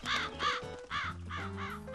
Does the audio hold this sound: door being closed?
no